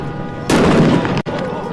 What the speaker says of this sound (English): Rioters are using fireworks as weapon against law enforcement.